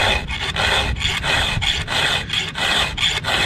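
A hand file rasps across chainsaw chain teeth in steady, repeated strokes, loud and close, each pass a gritty scrape separated by brief pauses, with no voices.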